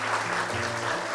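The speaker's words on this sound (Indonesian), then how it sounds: "boleh tepuk tangan untuk tantangan pertama" Steady applause fills the room, dense and continuous clapping from a group, with no voices standing out.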